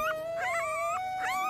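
Newborn puppies whine and howl in high, wavering cries that rise and fall over a steady tone, close and loud, with no one talking.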